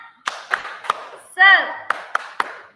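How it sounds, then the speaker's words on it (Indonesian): A group claps a rhythmic tepuk semangat ice-breaker pattern in a classroom: sharp, close claps in an uneven beat, broken midway by a short spoken chant before the clapping resumes. "Oke, tepuk semangat."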